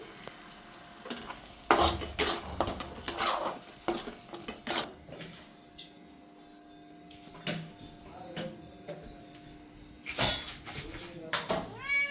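A cat meows a few times in a kitchen, mixed with clattering utensils, stirring and background talk.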